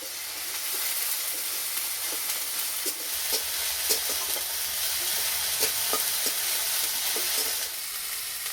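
Ginger garlic paste sizzles steadily in hot oil with onions in a karahi while being stirred, with faint scrapes and clicks throughout. The frying is continuous and moderately quiet.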